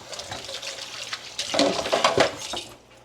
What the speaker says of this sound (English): Give my hands a quick rinse.